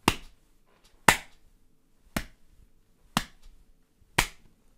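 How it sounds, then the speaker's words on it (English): One person claps hands five times, sharp isolated claps spaced about a second apart in a quiet room, each crisp and close with a short decay and nothing else heard between. "That was a clap for how clever you are."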